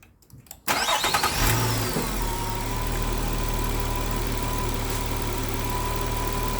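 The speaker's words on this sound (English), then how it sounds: "I need to start the car up first" A 2009 Nissan Maxima engine cranks briefly and catches, then settles into a steady, close idle that hums on without a break.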